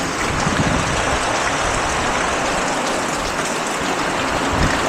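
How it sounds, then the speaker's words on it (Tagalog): Heavy typhoon rain pours down in a loud, unbroken roar of dense wash close by, with no pauses and no talking. "Ang ulan dito guys."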